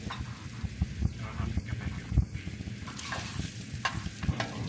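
Pork chorizo frying in plenty of oil in a pan, a busy low crackle and sizzle with occasional scrapes and sharp taps, close up and steady throughout, no voices.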